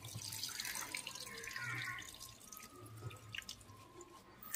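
Cold water runs and splashes while a pet monkey is bathed, a steady trickle with dripping and small splashes, close and fairly quiet, with no talk over it.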